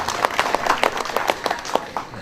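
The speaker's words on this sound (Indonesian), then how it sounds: "Tepuk tangan." A small audience claps at a public health gathering, a short burst of scattered, uneven claps heard fairly close that tapers off within about two seconds.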